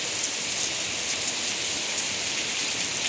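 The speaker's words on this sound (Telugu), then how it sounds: "వర్షం స్టార్ట్ అయింది" Steady rain falls outdoors during an evening downpour, a dense, even hiss of drops on surfaces with no breaks, fairly loud and without voices.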